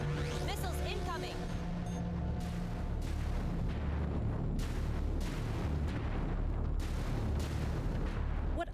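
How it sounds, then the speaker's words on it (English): A Battlestar Galactica Deadlock space battle rages with continuous loud gunfire, booming impacts and missile blasts, rapid bursts recurring in a steady barrage while voices talk in the background. "Fighter squadron is taking fire. Missiles incoming."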